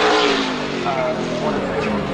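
A Ferrari special edition race car revs at a motorsport festival, its engine snarling loudly and close for a couple of seconds while someone talks over it.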